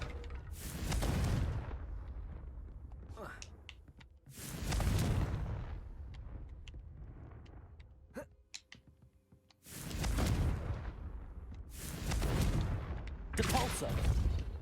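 Repeated fiery blasts from the Confringo spell in the Hogwarts Legacy video game, four loud bursts with booming low rumble spaced a few seconds apart, quieter crackling effects between them.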